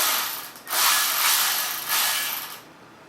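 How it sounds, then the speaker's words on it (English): A hand ratchet clicks rapidly in two or three short bursts while screws are driven in during a Tesla motor swap, close and fairly quiet with brief pauses between the runs. "We have our ratchet here."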